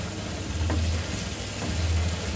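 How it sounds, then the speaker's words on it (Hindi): Mutton pieces fry in green masala in a pan over a medium flame, a steady close sizzle and crackle with faint stirring scrapes, no voices. "अब फ्राई कर लेंगे गोश्त को"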